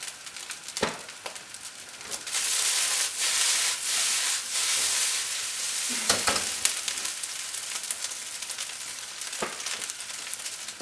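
Fried rice cooking in a hot pan, a bright continuous sizzle and crackle with scattered sharp pops and occasional scraping stir strokes, close and loud on its own.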